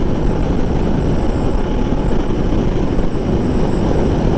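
A 2021 BMW R18 cruiser motorcycle engine runs while riding, a steady, dense low drone mixed with wind rush that holds at an even level without breaks.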